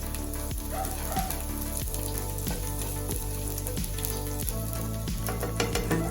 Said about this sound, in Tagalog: Pag mainit na yung mantika, ilagay ang bawang